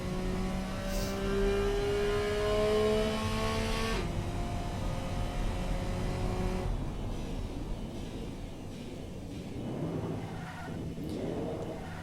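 An inline engine supercar in a racing game revs and accelerates, its tone climbing in steady steps through the gears before a shift drops the pitch, then it drones on with fainter, wavering engine noise, loud and close with no talk.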